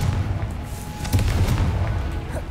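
Confringo spell explosion in Hogwarts Legacy, a low rumbling boom with scattered crackling bursts in a continuous dense roar.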